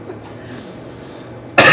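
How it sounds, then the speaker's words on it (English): A person gives a single loud throat-clearing cough up close, after a stretch of quiet room tone. "I have to clear my throat."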